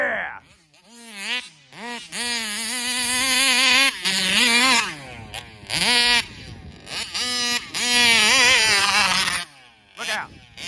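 Small 71cc Vespa scooter engine revving hard and rising and falling in pitch, a buzzing two-stroke whine that surges repeatedly, close and loud, with brief drops between pulls.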